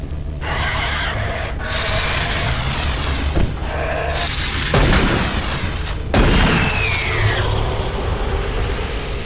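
Grenade explosions in Doom 3 BFG Edition, with a couple of heavy booms bursting out over a continuous mechanical rumble and hiss of the game's ambience, and no speech.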